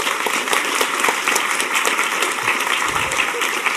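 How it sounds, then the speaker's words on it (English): Steady, dense applause from an audience at the closing ceremony of the HOPE Number Six hacker conference, continuous and fairly loud throughout with no break. "So a round of applause for that guy,"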